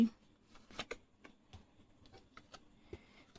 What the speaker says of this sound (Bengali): এখান থেকে আমি একটা কার্ড নিয়ে নিচ্ছি